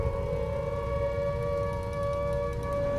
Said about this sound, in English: Turn off this air raid siren.